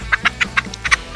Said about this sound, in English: The chickens think I'm out here, I should be feeding them.